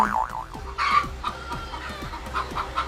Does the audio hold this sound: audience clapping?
no